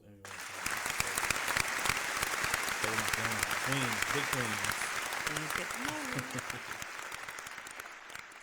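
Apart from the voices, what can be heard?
applause sound effect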